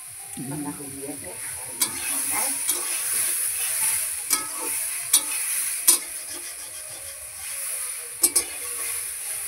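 A grandmother stirs and fries vegetables in a small home kitchen: steady frying sizzle with a bright hiss throughout, broken by sharp utensil scrapes and clinks against the pan at irregular intervals.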